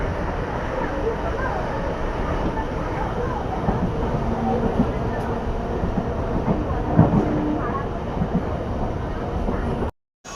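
A nearly empty local train on the Shantipur line enters Chakdah station on a winter night, a steady onboard rumble with light wheel clatter and a brief knock, muffled voices faintly beneath, cutting off abruptly at the end.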